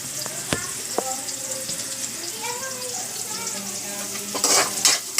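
Onion and garlic sauté in a pan with a constant close sizzle and occasional stirring scrapes, while a person talks over the frying.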